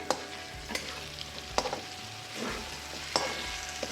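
Spiced masala for a chana dal and egg curry being fried and stirred in a pan, with a soft continuous sizzle broken by several sharp scraping strokes of the spatula at irregular intervals, close and fairly quiet.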